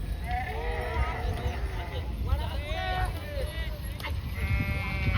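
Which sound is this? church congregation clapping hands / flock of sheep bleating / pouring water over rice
flock of sheep bleating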